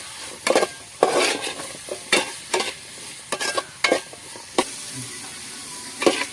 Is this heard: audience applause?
no